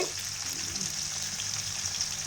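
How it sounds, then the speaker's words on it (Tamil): Onions sauté in a pan with a continuous, even sizzle of frying in oil, close and moderately loud, with no other sounds over it. "வெங்காயம் நல்லா வதங்கட்டும்"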